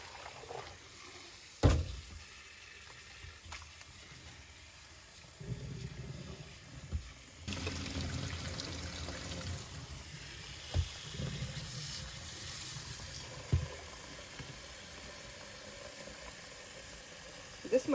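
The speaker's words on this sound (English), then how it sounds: "this is the hottest water that comes from the sink" Hot water runs from a sink tap in a steady broadband wash that thickens partway through, with occasional clunks and splashes of handling on top.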